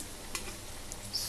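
Lachha chicken pakode, shredded chicken fritters, frying in hot oil while being flipped: a steady close crackling sizzle with faint stirring clicks, and no voices.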